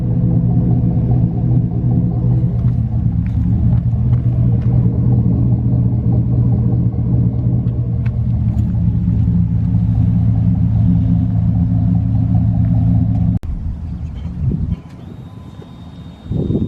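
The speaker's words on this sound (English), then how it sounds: "So we got the Tahoe idling." A 2011 Chevy Tahoe with a 5.3 V8 and a muffler delete idling close by, a loud, steady low rumble that holds for most of the stretch before dropping off briefly near the end.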